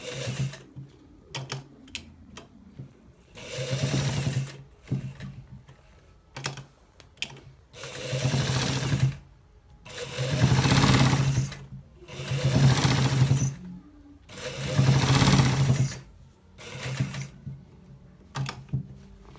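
A sewing machine stitching a designer shirt with buttons runs in repeated bursts of rapid mechanical whirring, several seconds each, separated by short pauses and light clicks of handling.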